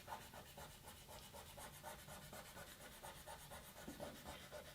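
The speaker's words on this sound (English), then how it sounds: "so now we'll burnish" Rhythmic rubbing strokes of a tool burnishing paper onto a doll-themed art journal page, steady and close, repeating evenly without talk.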